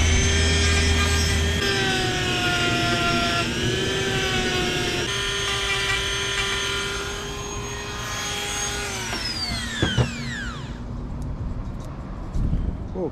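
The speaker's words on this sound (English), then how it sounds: "let me get the Dremel and we'll shave this off" A Dremel rotary tool shaves plastic off an Arrma Infraction V2 RC car, whining steadily at a high pitch for about nine seconds, then spinning down as it is switched off, leaving a few light clicks and handling noises.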